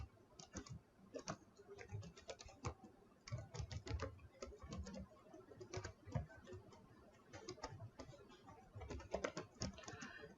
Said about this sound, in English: So it's about 30 lines of typing, but it should go hopefully pretty fast.